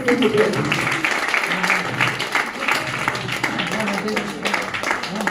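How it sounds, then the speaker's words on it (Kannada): An audience at a Kannada book launch and release ceremony applauds, a steady wash of clapping from many hands that runs throughout, with voices speaking over it. "ಜೋರಾದ ಚಪ್ಪಾಳೆ ಬರಲಿ"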